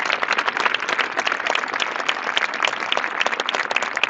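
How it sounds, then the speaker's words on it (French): An audience breaks into continuous applause, many hands clapping in a steady, fairly close burst with no voices standing out. "on applaudit ce frère Abou Bakr, on applaudit ce peuple"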